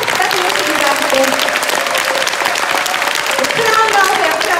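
A seminar audience at KINTEX in Ilsan claps steadily and loudly for the whole stretch, a dense wash of hands with a voice faintly riding over it.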